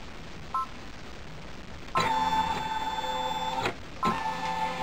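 An electronic quilting machine starts stitching fabric held in a hoop, giving a whirring, tonal mechanical drone that runs for about two seconds, briefly stops, then starts again, after a small beep near the start.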